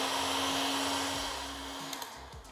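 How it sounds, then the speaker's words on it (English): A steady, loud heat gun hums and hisses continuously, like a hair dryer, warming a knife for chocolate work, with a couple of faint clicks near the end. "Well, I've got a heat gun here."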